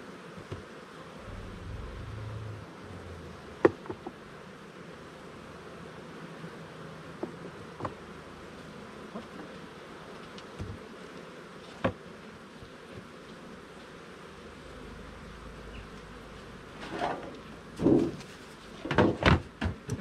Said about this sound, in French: les abeilles vont redescendre donc, dans le corps